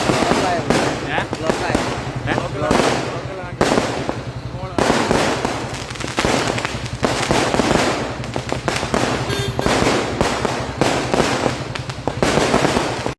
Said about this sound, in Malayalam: സംസ്ഥാനപാതയിൽ ഒരു വാഹനങ്ങളും കടത്തിവിടാതെ റോഡിൽ പടക്കമിട്ട് കത്തിച്ച്